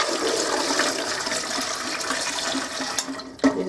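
Tap water pours steadily into a canning pot for a pork stew, a continuous close rushing fill that cuts off near the end with a brief clunk.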